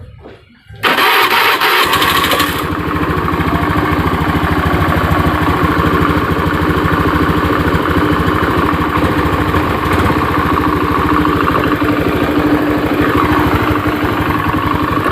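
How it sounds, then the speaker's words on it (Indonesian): A Honda Beat FI motorcycle with a fuel-injected engine and a rough starter cranks briefly, fires up loudly and settles into a steady, close idle that runs on without pause. "Kemudian akan saya hidupkan motornya ya."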